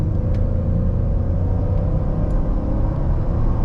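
A lifted Ford F150 fitted with an S&B cold air intake pulls under about 70% throttle, a loud, steady, deep engine rumble droning close throughout without letup or talking.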